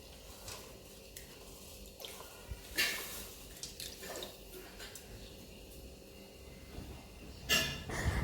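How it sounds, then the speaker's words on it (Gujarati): Rice and moong dal swish and splash in water at close range, with intermittent sloshing bursts and drips against a quiet background. "તેને સારી રીતે પાણીથી વોશ કરી લેવાની છે"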